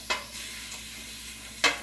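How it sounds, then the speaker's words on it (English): Food fries in a pan on a kitchen stove while green beans are being made, giving a steady soft sizzle with two brief clinks or stirring scrapes standing out near the start and end. "we're going to start that frying up"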